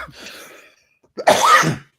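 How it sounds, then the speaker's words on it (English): A single loud, sharp cough bursts out close to the microphone after a soft breathy sound and a moment of silence. "I get the coughing every time the show gets started"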